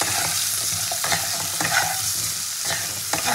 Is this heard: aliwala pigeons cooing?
no